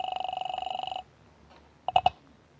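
A telephone rings in an old-time radio drama, a rapid electric bell trill lasting about a second, then a brief pause and a couple of clicks and clatter as the receiver is picked up.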